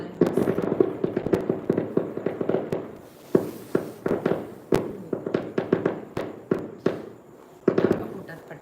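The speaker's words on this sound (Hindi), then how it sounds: "पटाखा फूटा पटाखा।" Firecrackers burst in an irregular, rapid series of sharp cracks, some in quick clusters and a few louder pops, with people talking underneath.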